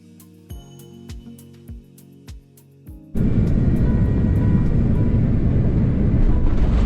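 Starlux Airlines airliner descending into Bangkok through clouds: after a few soft thumps, a loud, steady broadband cabin roar of engines and airflow sets in and holds to the end.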